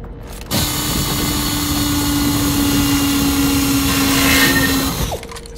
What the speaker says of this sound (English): Hydraulic seal needs to go. Drill here.